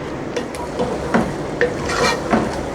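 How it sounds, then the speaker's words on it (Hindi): Potatoes and fenugreek sauté in ghee with a soft, steady sizzle, broken by several scraping stir strokes from a spoon against the pan, close and clear with no voices. "अब इसको हमने अच्छे तरीके से भून लिया और इसका घी जो है वो अलग हो चुका है।"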